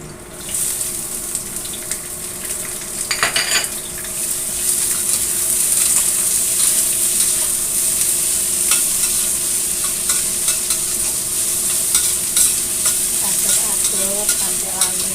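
Onions sizzle steadily in hot oil in a pan while being stirred, with a continuous bright fry hiss and scattered scrape and clink accents throughout, close and fairly loud with no talking.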